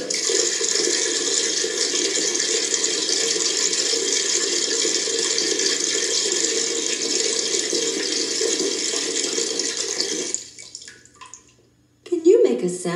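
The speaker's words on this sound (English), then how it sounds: "Let's listen to the sound of the tub filling up with water." A bathtub fills from the tap with a steady, loud rush of running water for about ten seconds, then the flow cuts off and a brief splash or voice follows.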